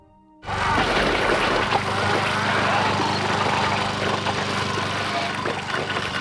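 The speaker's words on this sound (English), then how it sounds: "A lawnmower with a rope." A rope-start lawnmower roars to life in a gory 1992 horror film scene, bursting in abruptly after a short quiet and then running loud and steady with a dense, rattling engine drone.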